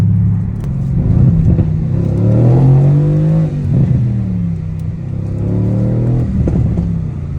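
A car with every setting in Sport Plus pulling hard at a meet of 950-plus wheel horsepower cars, a loud close engine rising and falling through repeated revving surges with deep rumble, no voices.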